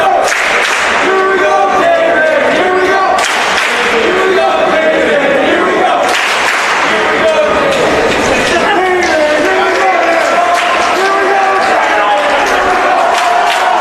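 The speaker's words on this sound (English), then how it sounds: "You can hear David's teammates in the background cheering him on through this final 25 yards of the 100-yard backstroke." High school swim teammates shout and cheer from the pool deck during the final 25 yards of a 100-yard backstroke race, loud and continuous with bursts of crowd noise and an announcer talking over it.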